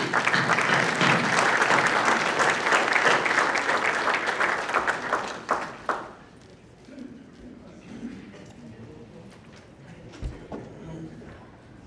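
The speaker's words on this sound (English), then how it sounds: "Let's have a round of applause." A breakfast-event audience applauds loudly and steadily for several seconds, then the clapping fades out into quiet room noise with a few scattered claps and faint murmurs.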